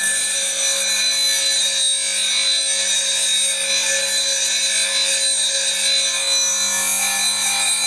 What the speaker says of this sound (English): Rubbed out on a coarse wheel, you can see it goes all the way around nicely